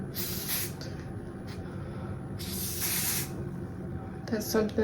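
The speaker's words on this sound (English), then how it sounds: "I'm just gonna take the spray and tie it down" Two long bursts of hair spray hiss close by on a short curly wig, separated by a pause, with faint background noise and a brief rattle at the end.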